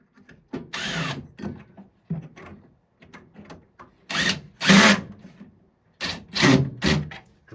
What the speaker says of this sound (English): Drill's a little too big